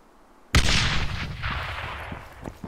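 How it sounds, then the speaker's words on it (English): A grenade blast in the military shooter Arma 3 erupts suddenly after a quiet start, a loud close boom followed by a long rumbling, crackling decay with a few small distant pops. "it would take literally like 10 seconds to throw a grenade, and this is just like boom, grenade"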